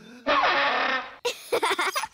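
A silly cartoon instrument called a sparl throttle plays a loud, buzzy warbling tone for about a second, then gives several short honking bursts in quick succession.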